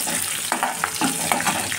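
Garlic and curry leaves fry in hot oil in a pan, with a steady close sizzle and occasional stirring scrapes.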